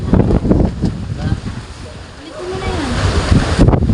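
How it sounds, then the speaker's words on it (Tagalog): Strong typhoon wind during Typhoon Kristine buffets a house roof, rushing gusts and rumbling wind noise with a rising whistling tone, heard close and loud as a person talks over it. "Lakas ng ano, bayo ng hangin dyan sa bubong."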